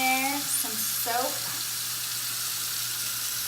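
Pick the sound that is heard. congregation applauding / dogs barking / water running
water running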